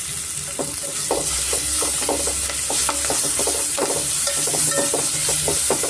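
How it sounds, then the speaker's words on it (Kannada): Ginger garlic paste frying in hot oil for mutton biryani, a steady close sizzle with repeated scraping stirs of a spoon against the pan. "ಶುಂಠಿ ಬೆಳ್ಳುಳ್ಳಿ ಲಾಸ್ಟ್ ಸ್ವಲ್ಪ ನಾವು ಫ್ರೈ ಮಾಡ್ಕೊಬೇಕು."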